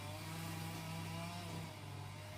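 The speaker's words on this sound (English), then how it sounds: "The gardener is out there sawing things over." A gardener's saw running outside a kitchen window, heard faintly through the glass as a steady, droning motor whine held evenly throughout, with no talk.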